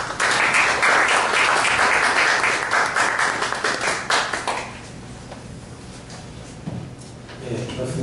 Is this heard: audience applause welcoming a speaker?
yes